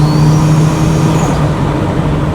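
Built 2.1-litre, 500 BHP Subaru Impreza WRX STI engine heard from inside the car, a steady loud droning hum held at constant speed, with no talking.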